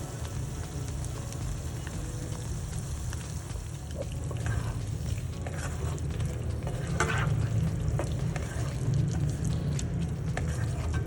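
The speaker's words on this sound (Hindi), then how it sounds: "केचप को मैंने अच्छी तरीके से कलेजी में मिक्स कर लिया है।" Goat liver frying in its own oil while ketchup is stirred in makes a low, steady sizzle with occasional scraping stirs, over a constant background hum that thickens slightly toward the end.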